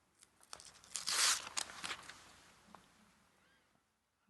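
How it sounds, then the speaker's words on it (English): Paper backing peels off fusible iron-on web laid over base fabric, giving a close, crackling rip that swells to a louder burst and then fades into soft crinkling. "peel off the paper backing"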